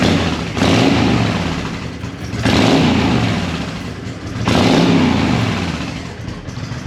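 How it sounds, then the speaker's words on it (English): A Honda VTX motorcycle engine running after a carburetor repair, revved three times in loud close surges that fall back toward a steady idle between them. "That's how I expect the bike to run."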